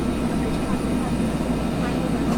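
A flight-simulator helicopter sets down, its steady engine and rotor drone holding a constant low rumble throughout at an even, close level.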